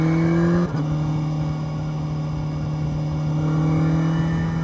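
A Suzuki GSX1000GX motorcycle engine on a test ride along a rough rural road, a loud steady drone close up that drops pitch briefly at a gear change, then holds an even tone with wind noise.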